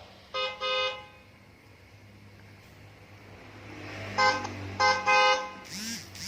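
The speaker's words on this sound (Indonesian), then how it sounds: "Terdengar suara klakson mobil dari luar" A car horn honks outside, heard from inside a car on a rainy road: two short toots, a pause over steady engine and road hum, then three more louder honks in quick succession.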